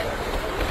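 Strong storm wind buffeting the microphone at Masjidil Haram in Mecca during a night rainstorm, a steady broadband roar with gusty swells.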